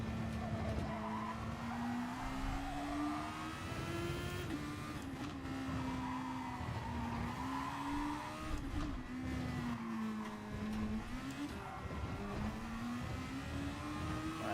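Race car engine from a Super Formula racing video game at Barcelona-Catalunya, droning steadily through a hot lap with rising and falling pitch through gear changes, alongside continuous tyre skid and squeal, loud and close throughout without talk.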